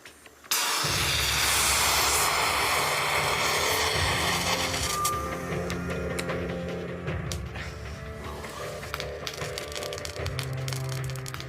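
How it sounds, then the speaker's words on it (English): A heated sample in which perchlorate reacts explosively with organics gives a sudden onset followed by a sustained crackling, hissing rush that gradually fades with scattered pops and clicks. "The perchlorate is reacting explosively with the organics, releasing this oxygen that burns the organics."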